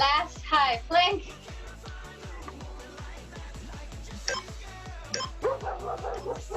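A pet dog barks and yips several times in short bursts over a pounding, rhythmic workout music beat, with a trainer talking through an exercise session.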